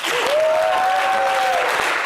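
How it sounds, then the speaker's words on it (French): Dense audience applause on a television program, steady and fairly loud, with a sustained whistle-like tone rising over the clapping partway through. "On applaudit encore."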